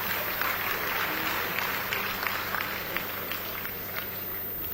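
Comedy show audience applauding the governor, a steady, moderately loud round of clapping with a few sharper claps standing out, and no speech over it.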